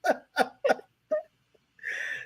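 A person sneezes in a quick series of three sharp, close bursts, followed by a softer fourth burst, then a breathy exhale or sniff at the end.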